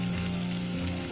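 Onion, garlic and curry leaves sautéing in hot oil for a tamarind curry, a steady close sizzle over the whole brief moment.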